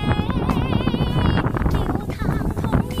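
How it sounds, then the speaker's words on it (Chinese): Strong north wind gusts across open farmland in rural Inner Mongolia during harvest, a constant loud rushing buffet on the microphone with a voice talking over it. "今天内蒙古的风太大了，呼呼的北风，能不能听到？"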